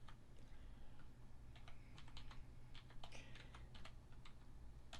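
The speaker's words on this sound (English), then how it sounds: "you're going to want to type in our website" Someone types on a computer keyboard in short bursts of faint, close key clicks, entering a website address, over a low steady background hum.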